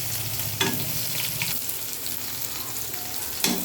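Onions frying in hot oil with cumin seeds, a steady close sizzle with a few brief stirring scrapes.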